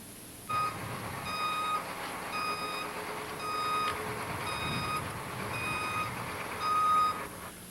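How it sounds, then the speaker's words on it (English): A truck backing out of a garage door and turning sounds a regular series of evenly spaced reversing beeps over a low engine idle, moderately distant and continuous for several seconds. "let's look at a truck backing out of a garage door and turning"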